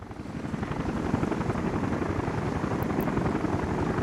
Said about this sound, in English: Is there a passenger helicopter?